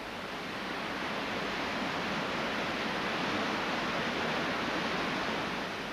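The River Tees at High Force waterfall in Upper Teesdale, falling the full height of a rock sill, makes a steady broadband roar that holds constant throughout with no voices.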